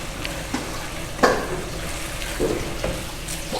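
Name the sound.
carrots and capsicum cooking in a pan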